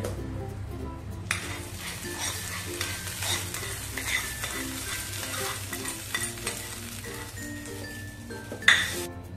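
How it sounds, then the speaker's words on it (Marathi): A spoon stirring hot tempering through chutney in a pan, sizzling, with soft scraping and a light metallic clink near the end. "चांगली फोडणी आपण चटणीमध्ये एकजीव करूया."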